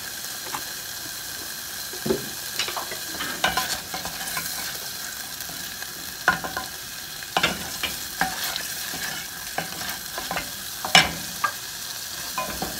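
Oil sizzling in a frying pan during home cooking, a steady hiss with scattered sharp pops and crackles through the clip, fairly close, no voices.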